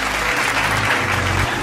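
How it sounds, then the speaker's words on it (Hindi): An audience at the Miss Trans Pakistan crowning ceremony gives loud, sustained applause, a thick, steady clapping roar with faint low rumbles underneath and no speech. "इनके लिए भी तालियाँ अच्छी सी मुझे सुनने को मिलनी चाहिए."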